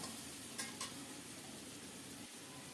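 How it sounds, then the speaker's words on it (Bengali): Three shrimp coated in salt and turmeric frying in mustard oil, giving a soft, steady sizzle with a couple of brief scraping stirs near the start, quiet and without speech. "সরিষার তেলে লবণ হলুদ মাখিয়ে তিনটা চিংড়ি মাছ ভেজে নিচ্ছি"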